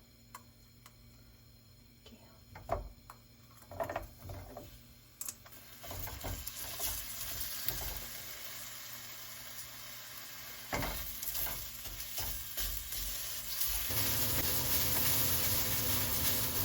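Chopped onions sauté in a pan over low heat; a few clinks and scrapes come first, then a soft sizzle builds into a louder, steady crackle near the end, with no talking.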